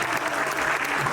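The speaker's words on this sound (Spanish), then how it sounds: "un fuerte aplauso al público" A short burst of steady, dense applause from the audience at a Quechua-language music reaction show, loud and continuous throughout.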